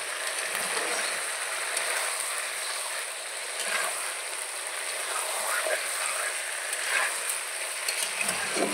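Chicken curry sizzling steadily in a pan after fried potatoes and two whole garlic cloves go in, with continuous crackle and a few stirring scrapes and clicks, close and fairly loud.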